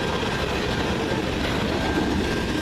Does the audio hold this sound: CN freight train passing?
yes